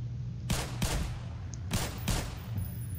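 An automated turret in the game Black Mesa fires short bursts of gunshots, several sharp cracks in quick pairs over a low humming background.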